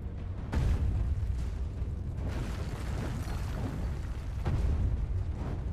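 In the video game Alice Madness Returns, cannon fire lands as a few deep booming explosions with a sharp hit near the start and another near the end, over a steady low rumble and no talk.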